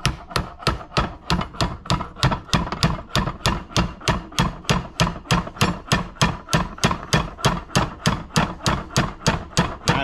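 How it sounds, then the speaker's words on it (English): A sledgehammer taps repeatedly on a part of a 1994 Club Car DS gas golf cart, giving a quick, even train of metallic knocks, close and moderately loud throughout. "I'll just get my sledgehammer and tap on it."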